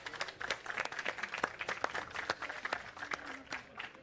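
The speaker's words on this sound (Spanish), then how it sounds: "Un aplauso para ustedes" A conference audience at a Chilean Corfo event gives a round of applause, a moderate scattered clapping with distinct individual claps rather than a dense roar.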